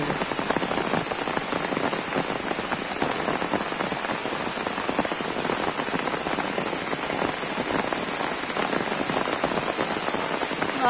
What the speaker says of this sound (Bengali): পাহাড়ে কদমা রঙ্গিতে বৃষ্টি নামছে